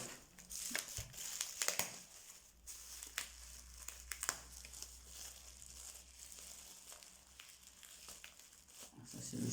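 Taped parcel being unwrapped close by, with quiet crinkling and rustling of wrapping and occasional sharp tearing of tape, soft and irregular, faint background voices.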